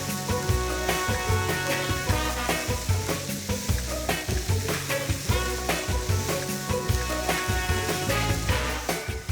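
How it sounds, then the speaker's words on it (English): Pork chunks, onion and garlic sizzle loudly in a braising pan, a dense crackling fry pulsing with stirring, close and continuous with no talk. "In it goes, lots of sizzle going on there like that."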